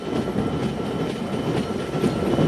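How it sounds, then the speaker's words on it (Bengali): Riding aboard the Intercity Ruposhi Bangla Express as it rolls into Bhanga Junction station in Faridpur, a continuous close rumble of wheels and carriages with faint rhythmic clatter and steady rattling throughout. "আমাদের ট্রেনটি এখন ফরিদপুর জেলার ভাঙা জংশন রেল স্টেশনে প্রবেশ করছে"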